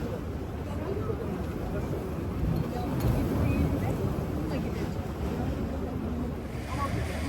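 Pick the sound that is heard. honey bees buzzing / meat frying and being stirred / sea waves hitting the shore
sea waves hitting the shore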